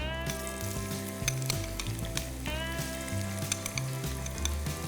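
Chopped onions sizzle in hot oil with cumin seeds in a pan, a steady crackling fry with occasional stirring scrapes, heard over a soft musical background.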